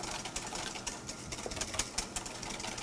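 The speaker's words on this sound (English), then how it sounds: "So while I'm whisking this" A whisk works pan drippings and stock in a pan during a cooking class, giving quick, continuous scraping and clicking that is fairly quiet and busy throughout, with no talking.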